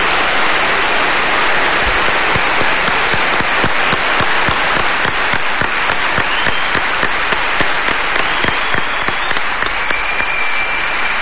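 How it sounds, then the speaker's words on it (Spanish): Loud, sustained applause from a large audience at a live event in Medina del Campo, Spain, dense clapping filling the whole stretch without pause. "Me gustaría que le diese un aplauso, vuestro calor, de verdad."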